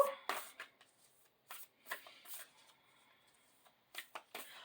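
Spirit Animal Oracle cards being shuffled by hand, close and soft, in repeated quick riffling bursts separated by short quiet gaps.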